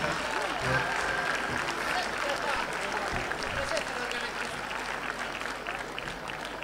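Festival audience at the 42nd Festa del Turista in Aglientu applauding steadily for several seconds, a dense, sustained wash of many hands clapping at moderate volume, fading only slightly toward the end.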